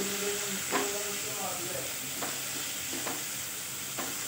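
Chopped onion and potato frying in a pan make a continuous crackling sizzle, with a few soft stirring scrapes at regular intervals and some faint speech in the background.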